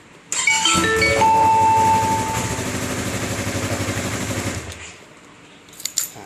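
An MT03 car alarm locks with a loud, steady electronic warbling chirp that lasts several seconds before cutting off, followed by a few faint clicks.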